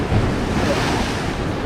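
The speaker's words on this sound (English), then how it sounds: "Away from any crazy waves for now." Ocean surf breaks and washes steadily along a rocky fishing shoreline, a dense continuous roar with wind buffeting the microphone throughout and no voices.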